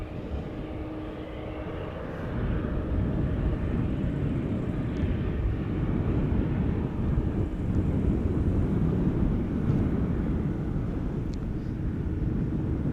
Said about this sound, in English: the A350-1000 to Hong Kong looks like it is on the taxiway to the center